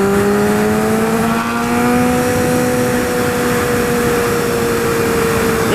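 A 2012 Honda CBR 1000RR motorcycle engine pulls steadily in fourth gear, its loud, close whine rising smoothly in pitch over constant wind rush.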